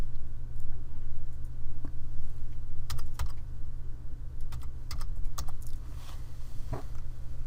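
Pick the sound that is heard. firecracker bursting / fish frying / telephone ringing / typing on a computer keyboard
typing on a computer keyboard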